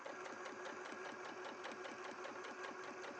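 A sewing machine stitches a quilt at a quick, steady pace, its needle thumping in an even rapid rhythm with a faint motor hum underneath, heard alone.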